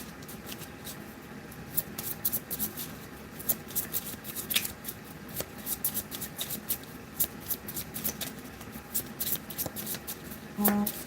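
Tarot cards are shuffled by hand in a close, quiet room, with rapid crisp riffling and slapping bursts in irregular clusters and occasional soft taps. There is no clear speech over the shuffling.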